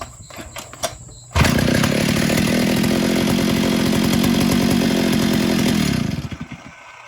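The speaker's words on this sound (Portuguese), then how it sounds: "Motor excelente, muito bom motosserra." A loud two-stroke engine of an old Stihl 08 chainsaw kicks in after some clicks and rattles, runs at a steady buzzing rumble for several seconds, then sputters down.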